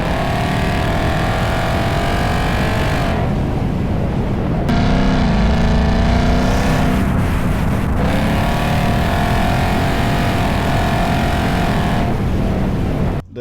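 Car rolling on the road on new Michelin Pilot Sport 4S tires, 255/35R19 front and 275/35R19 rear, giving a loud continuous engine and road drone heard from inside the cabin, with brief shifts in tone and no talk.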